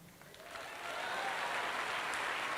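Audience applause at a 12th anniversary event for Glaze Trading, clapping that starts light and swells into full, steady applause from a crowd in a hall.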